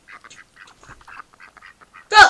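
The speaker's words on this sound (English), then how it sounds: "Ducks!" A run of short, nasal duck quacks in quick succession, fairly quiet, ending in one louder, harsh honking call.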